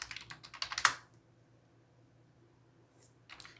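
Quick burst of computer keyboard keystrokes typing a terminal command, close and moderately loud, ending in a sharper key press, then near silence with a few soft clicks near the end.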